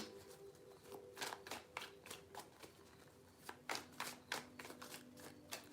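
Tarot cards are shuffled by hand in a quick series of crisp riffling flicks, close and fairly quiet, with no voice over them.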